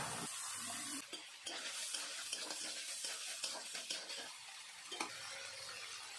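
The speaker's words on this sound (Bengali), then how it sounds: "কড়াইতে আরেকটু তেল দিয়ে দেব। তারপরে আমি সিমের বীজগুলো ভেজে নেব।" Broad bean seeds fry in oil in a wok, giving a constant soft sizzle broken by several sharp scrapes and knocks of a spatula against the pan. No voices.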